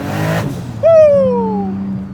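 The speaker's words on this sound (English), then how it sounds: "Open wastegate, as you can hear. So it's got a Borg Warner turbo on there." Nissan Skyline R32 with a Borg Warner single turbo and open wastegate: after a low engine rumble, a loud whistling whoosh starts sharply and slides downward for about a second over the steady engine drone.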